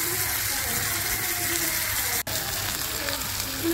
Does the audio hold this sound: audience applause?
no